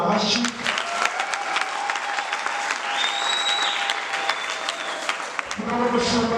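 Church congregation applauding at a worship service, thick continuous clapping that fills the room for several seconds, with a faint sustained tone drifting underneath before the clapping eases at the end.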